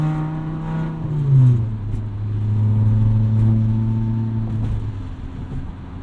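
A $500 beater car drives along with a steady low engine drone that rises and shifts pitch as it changes speed. Faint interior rattles and road noise sit underneath, heard close from inside the cabin.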